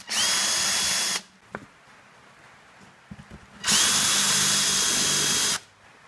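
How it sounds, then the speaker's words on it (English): Power drill fitted with a 9–10 mm bit boring through old tyre rubber: two loud, close bursts of whining motor, each a few seconds long, separated by a quiet pause with small handling knocks. "I'll put probably a 9 to 10mm drill bit through"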